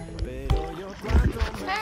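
A kayak paddled on the open sea off Martinique in the Caribbean, with close splashes and strokes of the paddle mixed with wind, while people talk over it.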